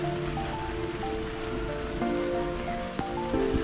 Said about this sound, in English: And as you see, it's raining.